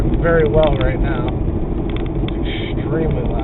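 A Chevrolet Cavalier engine with a spun bearing roars loudly and steadily while driving, a continuous low drone that runs the whole time with someone talking over it.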